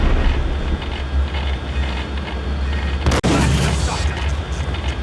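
Shotgun fire in the 2001 video game Max Payne: a loud, dense stretch of game combat noise, with one sharp blast and a brief dropout about two-thirds through, set against a steady low rumble.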